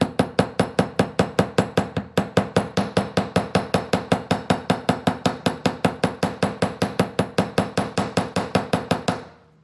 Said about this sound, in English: I'm going to get my hammering block, and I'm just going to hammer on the arc.